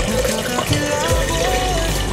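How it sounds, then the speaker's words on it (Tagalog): A small amount of water runs and splashes from a tap into a vessel, to be heated for coffee in a home kitchen; a steady gushing flow, close and continuous. "lalagyan ko konting tubig."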